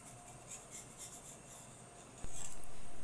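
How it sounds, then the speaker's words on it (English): A scraper blade scrapes old gasket material off the crankcase mating surface of an MWS pump, making soft, faint rubbing strokes, followed by a sharp click and a slightly louder steady scrape near the end. "Use a scraper blade to remove the old gasket from the crankcase mating surface."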